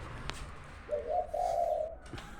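A spotted dove in Chaiyaphum gives a soft, mellow cooing phrase, one rising and falling call, fairly close, over a quiet hiss with a couple of faint clicks.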